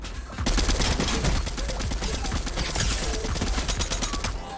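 Rapid gunfire in the video game Fortnite, a dense, continuous burst of close shots that runs through the whole stretch with no talking.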